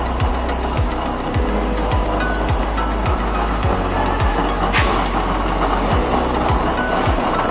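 A used-oil stove burner runs in rocket mode with a loud, steady roaring rush and a rhythmic low pulsing thump repeating roughly twice per second, close and unbroken.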